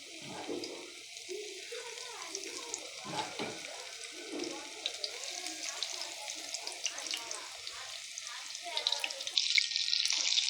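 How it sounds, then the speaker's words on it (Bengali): Chicken pieces frying in hot oil in a wok for chilli chicken, a steady crackling sizzle with occasional stirring clatter and some watery splashing, moderately close and continuous throughout. "এবার আমি চিকেনগুলো ভেজে নেব।"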